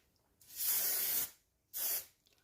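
Cooking spray hisses onto a cake tin for a Victoria sponge in two short bursts, the first longer, close and clear against a quiet kitchen.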